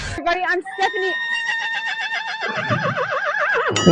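A horse whinnies loudly and close, a long wavering neigh that rises and trembles for several seconds.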